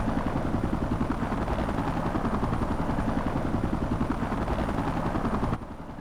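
Helicopter from the game Xenoblade Chronicles X in a blustery crosswind: a steady, loud rotor-and-engine drone with a dense chopping texture that holds for several seconds, then drops abruptly quieter near the end.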